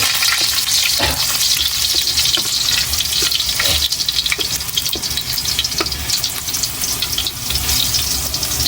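Garlic sizzles loudly in a hot pan for stir-fried bitter gourd, a dense, continuous close frying hiss with occasional stirring clicks.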